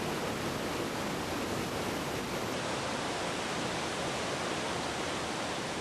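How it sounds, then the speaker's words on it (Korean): A huge waterfall in the Swiss Alps, fed from Jungfrau and neighbouring peaks, plunging some 300 metres onto rock: a dense, unbroken roar of falling water, loud and constant throughout. "(300m) 아래로 떨어지는 거대한 물살은 단단한 바위를 깎아내고 그 깊이를 더해갑니다"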